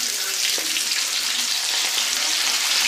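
A batch of flour-coated calamari fries in hot oil, a loud, steady, dense sizzle that continues unbroken from start to finish at close range.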